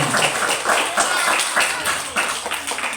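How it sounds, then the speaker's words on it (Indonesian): A group of primary school children clapping steadily for about three seconds, a dense, fairly loud patter of hands with no pause. "Ayo tepuk tangan dulu untuk Ainun."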